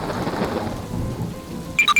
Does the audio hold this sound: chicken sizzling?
no